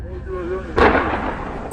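A single loud, booming rifle gunshot cracks out during a night wild boar hunt after a moment of quieter background, its echo rolling away over the following second.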